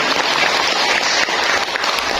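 A crowd at a village hall community event in Puger, Indonesia, claps in sustained dense applause, loud and steady throughout with no clear speech over it.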